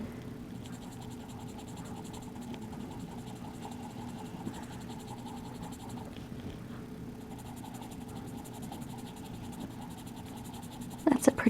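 Colored pencil scratching steadily across paper while coloring, a soft continuous scraping close up and fairly quiet, with a brief louder rustle at the very end.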